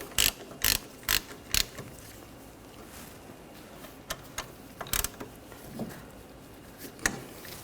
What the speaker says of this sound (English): Install the bracket and the bolts, get those started.